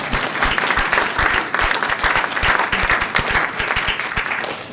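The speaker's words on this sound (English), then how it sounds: "So applause for his bravery." At the Tufts Poetry Awards 2016, a sizeable audience claps in dense, sustained applause close by, holding steady throughout with no voices.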